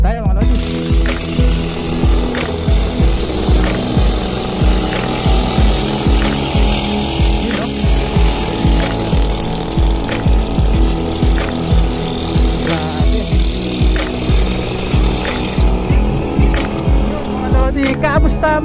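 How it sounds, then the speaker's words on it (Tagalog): Enduro 49cc mini pocket bike engine running, a loud buzzing two-stroke drone with a steady pulsing rhythm held close for the whole stretch, while someone talks over it. "gamit tayo ng mini pocket bike na enduro, yung forma"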